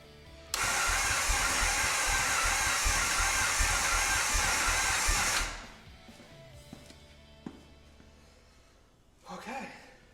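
A vintage Indian Chief motorcycle engine fires up and runs loud and steady for about five seconds before cutting off, leaving faint clicks, a short hiss and quiet background noise afterward.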